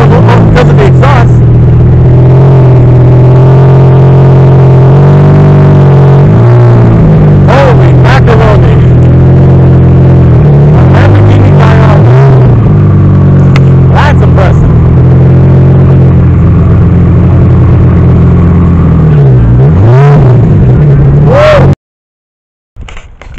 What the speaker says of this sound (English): Lamborghini Gallardo. You guys probably can't hear me because of the exhaust.